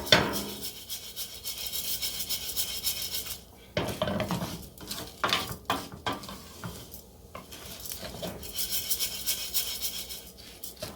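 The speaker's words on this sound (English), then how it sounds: "all we're going to do is move the rice around a bit. Let the rice get coated with the oil." Rice stirred in oil in a pan for pumpkin risotto, with steady close-up scraping and rubbing of a utensil against the pan and a faint sizzle underneath.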